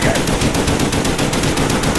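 Sustained rapid machine-gun fire in a Nazi Zombies video game, loud, close and continuous, with each shot blending into a dense, even rattle.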